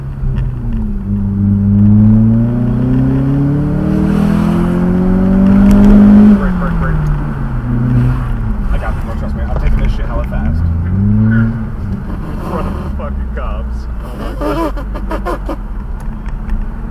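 A Jaguar XKR accelerates hard, its engine note climbing loudly through rising revs, dropping at a shift and pulling again, heard from inside the car with people talking over it.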